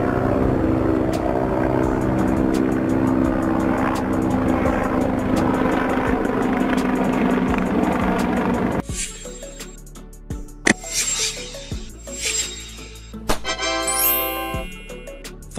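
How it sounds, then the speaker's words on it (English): A firefighting helicopter thrums with a dense, steady rotor and engine roar. After about nine seconds it gives way to a sparser mix of mechanical clicks, tones and bursts. "Firefighting helicopter, helicopter for fire rescue."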